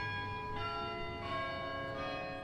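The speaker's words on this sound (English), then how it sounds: "we heard a sound, church bells" Church bells ring steadily with a rich, sustained metallic tone, overlapping strikes swelling at intervals, no voices present.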